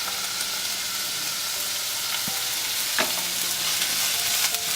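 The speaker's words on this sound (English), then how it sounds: "now that we've added the mustard seeds, we continue sauteing and stirring in it" Onion and mustard seeds sautéing in a pan for red lentils, with a steady close sizzle and occasional scraping clicks of stirring throughout, no talk.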